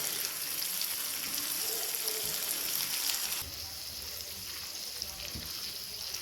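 Chicken curry with masala sizzling and frying in a pan while being stirred, a steady close hiss that drops slightly in level partway through, with a few soft scraping knocks.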